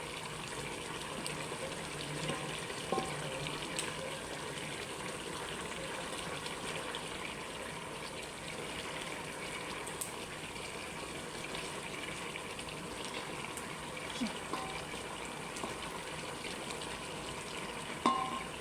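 Chicken feet curry stirred in a boiling pan, a continuous bubbling, sizzling wash with faint scrapes of the spoon running steadily throughout, fairly quiet and without talk.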